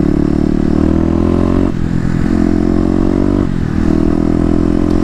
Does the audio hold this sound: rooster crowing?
no